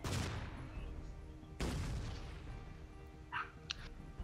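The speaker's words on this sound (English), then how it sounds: "It's an airstrike surprise." Airstrike explosions in the video game Shellshock Live: two heavy booming blasts with rumbling decay, the second landing about a second and a half after the first, followed by a few sharper pops, loud and close with no speech.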